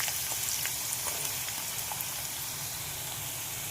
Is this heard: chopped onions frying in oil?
yes